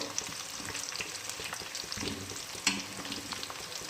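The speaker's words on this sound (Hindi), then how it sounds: "ये अच्छे तरीके से फ्राई होना शुरू हो गए हैं और ज़रा बराबर भी आपस में नहीं चिपके हैं" Namak pare snacks deep-frying in hot oil make a faint, steady, crackling sizzle throughout, with one brief louder pop partway through and no talking.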